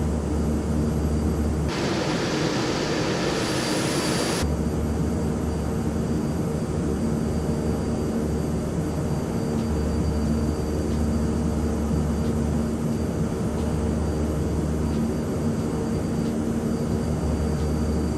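Steady broadband engine roar of an Airbus A330-900 airliner taxiing in Microsoft Flight Simulator 2020, a constant loud hum with a brief brighter hiss burst early on, no voices.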